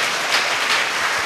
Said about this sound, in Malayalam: കയ്യടിച്ച് സ്വയം മാറ്റപ്പെടുത്താം.